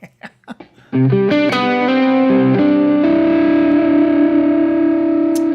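Electric guitar played through distortion and other effects, a few muted picked notes followed by loud sustained overdriven chords shifting in a short sequence, then one long ringing chord, close and alone.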